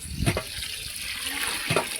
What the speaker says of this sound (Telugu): మనం బియ్యానికి సరిపడా నీళ్ళు పోసేసుకోవాలి.